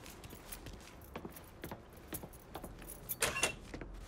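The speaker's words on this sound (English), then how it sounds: "Keys in the other room. Grab them so we can get the hell out of here." Keys jangle and clink as they are picked up in Mafia 3 Definitive Edition, a series of short metallic rattles, with one louder shake near the end, over a quiet game background.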